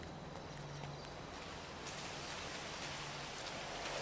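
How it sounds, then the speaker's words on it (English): Steady rain falls in the video game NoPixel across the whole stretch, a dense even hiss of drops with faint low hum beneath, no voices. "Ah, the rain."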